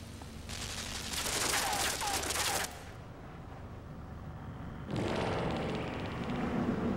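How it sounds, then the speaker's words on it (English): Sustained bursts of gunfire from a motion-triggered machine gun in the game Limbo, a dense rattling volley that pauses briefly and then resumes loud and close, with no talk over it. "stand in front of a motion-triggered machine gun"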